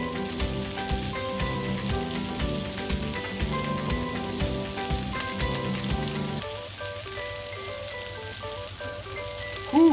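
Butter-topped pork chops sizzle on a Blackstone griddle with a steady, close crackling hiss that drops away sharply partway through, leaving a quieter background hum.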